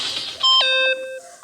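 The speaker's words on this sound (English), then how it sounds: "Stop that gosh darn beeping and say something!" An electronic beeping rings out in the video game Danganronpa, a short bright chime of several stacked tones stepping down in pitch, clear and alone for about half a second.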